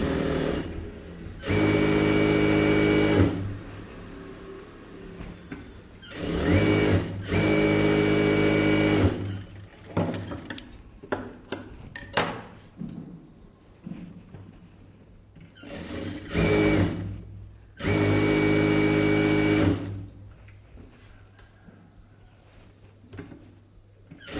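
A sewing machine runs in four loud, steady bursts of rapid stitching along the edge of a blouse lining, with quieter handling clicks and fabric rustle between runs.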